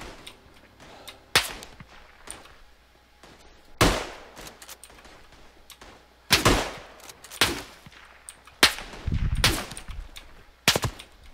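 Rifle shots in the World War I shooter Tannenberg: about six sharp, loud cracks at uneven intervals, each with a short echoing tail over quiet battlefield ambience.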